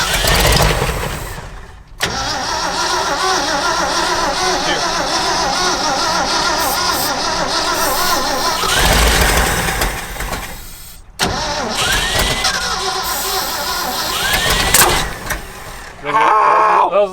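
A 1962 Ford COE truck cranks loudly on its starter in long, grinding bursts broken by brief gaps, the engine trying to catch, with people talking nearby.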